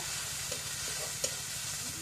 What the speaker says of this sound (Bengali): আদা রসুন বাটাটাও দিয়ে দেবো দিয়ে এগুলো ভালোভাবে একটু ভাজা করে নেবো